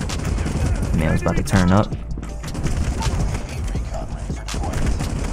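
An RPD machine gun in COD Mobile fires in sustained automatic bursts, loud and close, while someone talks over the shooting.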